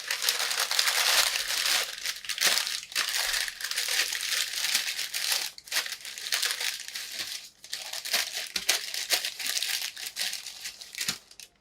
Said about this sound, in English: you're supposed to tear another layer of the parchment paper and put it like that